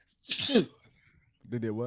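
A single sharp, close sneeze from a person, followed after a brief pause by someone speaking.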